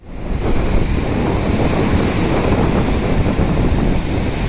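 Waves roll in and wind blows steadily across the microphone at Mahabalipuram beach, a loud, continuous wash of surf and gusty rumble with no voices.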